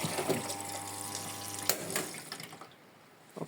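Water runs from a tap to rinse an item beside a new Brandt washing machine, a steady close gush with a low pump-like hum that stops after about a second and a half, then a few clatters and splashes.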